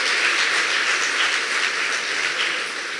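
Conference audience breaking into applause, a loud sustained wash of many hands clapping together that holds steady and eases off slightly toward the end.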